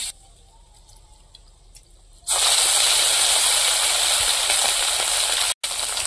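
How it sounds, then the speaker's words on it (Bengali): Roe of the river Mochon fish hits hot oil in a pan and bursts into a loud, steady sizzle after a quiet start, crackling on without pause almost to the end. "মাছগুলো ভাজা হয়ে গেল, এবার মাছের ডিমগুলো ভেজে দেবো।"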